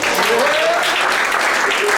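Audience at a live magic show applauds in a steady, full burst of clapping that carries from start to finish, with a faint voice rising over the crowd.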